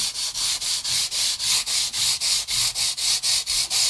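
Rhythmic sanding strokes smoothing the fret ends of a Squier guitar, about fourteen even back-and-forth rubs in steady succession, close and fairly loud with a hissy, abrasive texture and no talking.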